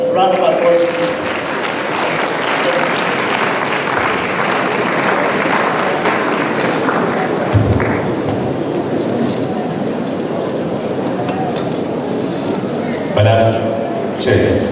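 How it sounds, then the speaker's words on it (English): Audience at a Presbyterian College of Education graduation ceremony applauding, a dense, steady wash of clapping sustained for several seconds with a voice over it near the end. "Shall we welcome him with a round of applause,"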